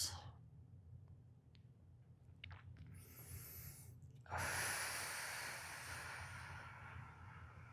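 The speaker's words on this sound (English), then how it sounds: "And take a couple breaths." Deep, slow breathing during a relaxation stretch session, soft airy inhales and exhales at close range, with a louder, fuller breath swelling partway through over a low steady background hum.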